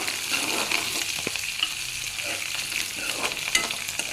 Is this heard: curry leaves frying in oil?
yes